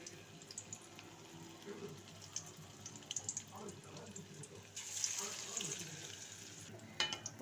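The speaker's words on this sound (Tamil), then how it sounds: "எண்ணெய் சூடான உடனே இந்த மாதிரி நம்ம வடை தட்டி போட்டுடலாம்" Banana flower vadai patties drop into hot oil in a home kitchen and sizzle steadily, the frying growing louder partway through amid faint handling clatter.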